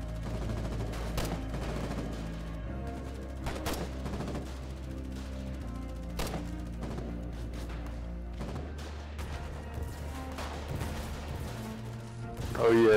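Gunfire in the war game Foxhole, scattered shots and bursts sounding over a steady low rumble, fairly quiet and mixed with background game noise.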